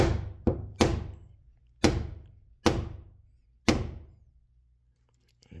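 A hand strikes a new trunk lock into place on a 1978 Chevrolet Monte Carlo, giving six sharp metallic thunks at uneven intervals, close up, each ringing briefly before fading.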